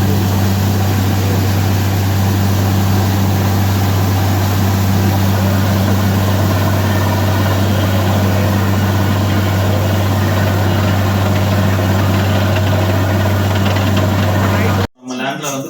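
A borewell drilling rig's engine runs on farmland during a 780-foot bore, a loud, continuous droning with a strong low hum and steady rumble that stops suddenly at the very end.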